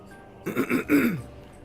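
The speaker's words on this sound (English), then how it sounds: "I keep clearing my throat." A man clears his throat once in a short, rough burst of rasping sound lasting under a second, close to the microphone against a quiet background.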